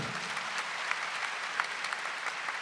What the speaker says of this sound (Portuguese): Dá uma salva de palmas para João Paulo II